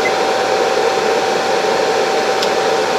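The cooling fan of a 1500-watt pure sine wave inverter runs with a steady, loud, close-up whooshing whir, unchanging throughout.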